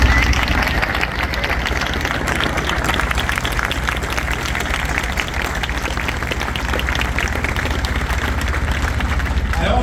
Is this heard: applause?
yes